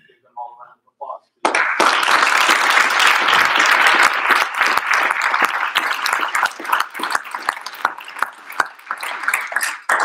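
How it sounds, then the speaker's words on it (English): After a brief spoken phrase, the audience at the Three Minute Thesis championship bursts into loud, sustained clapping that carries on to the end, thinning slightly toward the close. "I'd like to give them all a round of applause."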